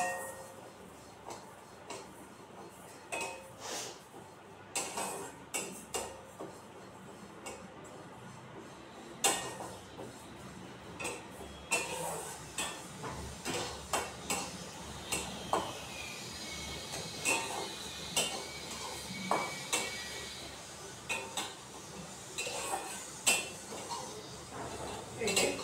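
Sona mung dal dry-roasted in a dry wok, with faint, irregular scraping and clinking as a utensil stirs the grains against the metal, quiet and close, with occasional louder knocks.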